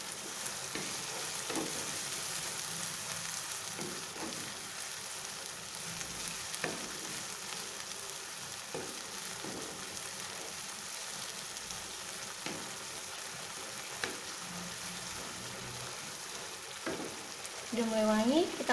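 Lime leaves, bay leaves and lemongrass frying in hot oil for a Padang-style gulai, a soft steady sizzle broken by repeated scraping stirs, growing louder near the end with a brief squeak.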